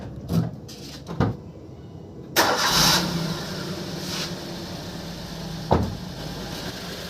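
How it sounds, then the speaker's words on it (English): A Maruti Alto K10 hatchback is started after its battery is connected. A couple of clicks come first, then the engine cranks and catches with a burst and settles into a close, steady idle. "Now I am going to start the car."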